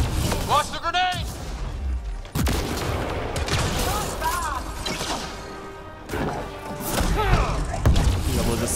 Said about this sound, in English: Launch the grenade!